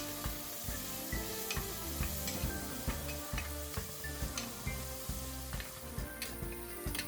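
Tomato, ginger-garlic paste and turmeric sauté in a pan for a Kongu-style country chicken fry, giving a steady close sizzle broken by frequent scraping and clattering stirs, with no talking.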